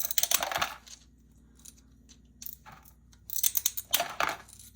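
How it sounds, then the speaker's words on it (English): Dichroic glass on a black base is nipped into smaller pieces with glass nippers, giving sharp snapping cracks and clinking fragments in two close bursts, separated by a quiet pause. "We're just going to nip that and break it up into smaller, manageable pieces."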